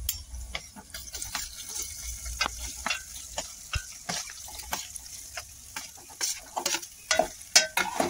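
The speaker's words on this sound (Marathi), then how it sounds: "आता याच्यात मी थोडीशी हळद आणि थोडासा गरम मसाला घेतलाय, तो पण टाकूया, परतून घेऊ" Mashed potatoes are sautéed in a pan with chili, turmeric and garam masala. The spatula scrapes and stirs in close, irregular strokes over a soft, steady sizzle.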